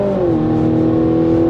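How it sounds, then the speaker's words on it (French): Mazda CX-90 engine in sport mode, its exhaust note amplified through a microphone, accelerating with a loud steady drone that rises slightly in pitch and holds strong throughout, no voices present. "Mazda a mis un microphone dans l'échappement dans le but de nous faire entendre le moteur lorsqu'on le met en mode sport"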